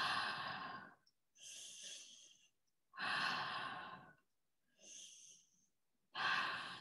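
Slow, deep breaths during a breathing exercise with the tongue touching the palate, four long airy exhales and inhales separated by short silences, close and clear with no talk.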